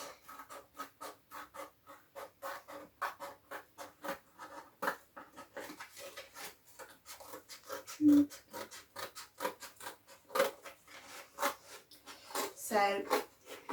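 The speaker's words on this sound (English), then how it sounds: "So we're just going to draw a circle first of all and cut it out." Scissors cutting a circle out of cardboard at a craft table, a quiet close run of rhythmic snips and crunches, each cut brief and separate, with a few louder rustles toward the end.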